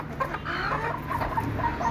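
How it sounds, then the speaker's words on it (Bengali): Broody native hens cluck softly and steadily in a continuous low chorus, with a constant hum of background noise and no voices. "এগুলো সবগুলো কোচা মুরগি ওদেরকে এখন এই মোরগ দিয়ে এখানে বেঁধে রাখছি"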